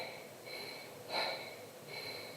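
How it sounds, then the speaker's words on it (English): Raspy, heavy breathing follows a treadmill sprint at around 17 mph, with a few strained, wheezy breaths at moderate distance, one slightly louder in the middle, and no talking. "I hear the raspiness in my breathing"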